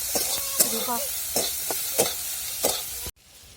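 Onions frying and being stirred in hot oil in a pan, with a steady sizzle broken by scraping stirs and clinks of the spoon at an irregular rhythm. The clip ends in a brief near-silence.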